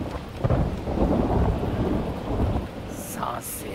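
A nighttime thunderstorm outside a dark hut, with heavy rain and a deep rolling rumble of thunder swelling and fading, followed by a few sharp higher noises near the end and no speech.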